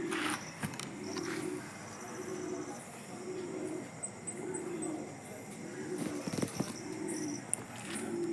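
Caged pigeons cooing in repeated low soft phrases, a steady rhythmic coo recurring every second or so, moderately near, over a background of hiss and occasional clatter.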